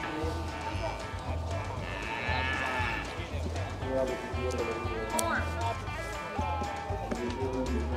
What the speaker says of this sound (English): the one thing I've been struggling to find is some cattle, but I followed my ears and I found them